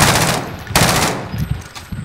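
Loud, close automatic gunfire from a Warzone match on Rebirth Island, rapid bursts of shots with a brief gap between strings, no voices over it.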